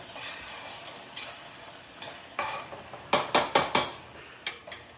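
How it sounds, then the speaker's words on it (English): A utensil scrapes and clinks against a pot as cream is stirred on a stovetop, faint scraping at first, then a quick run of several sharp metallic taps near the end. "I'm just putting the cream. I'm going to give it a quick stir."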